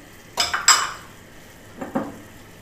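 Three green cardamom pods drop into a pot in a home kitchen, making a few quick, light clinks in two small bursts against a quiet background.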